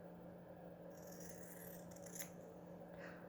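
Scissors slicing through material for a journal cover, a single soft snipping scrape followed by a brief second cut, quiet and close over a steady background hum.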